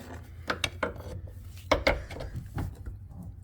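A pry bar works a Corvette axle out of the differential, giving several sharp metallic clicks and knocks in an irregular cluster, close by in a quiet garage.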